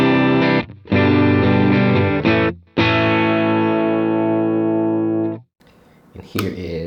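Distorted electric guitar on its bridge pickup, a Warmoth-built Suhr-style guitar, with a bright, biting tone plays a few strummed chords, then one held chord rings out and fades.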